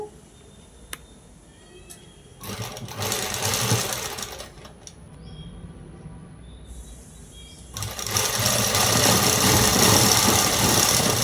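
A sewing machine runs a straight stitch along a dress in two loud bursts of rapid mechanical whirring, with a quieter pause and a few clicks between them.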